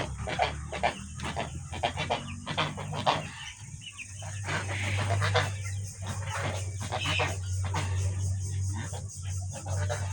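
Layer hens on a poultry farm cluck and chatter in a dense, continuous flock chorus, close and busy, with rapid repeated calls and a low hum underneath.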